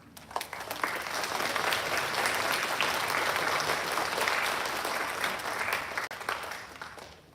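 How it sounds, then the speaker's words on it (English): Graduation audience at a nursing college ceremony in Sacramento breaking into applause, a full, even roar of many hands clapping that swells quickly, holds steady, then tapers off near the end. "Please give yourself a round of applause."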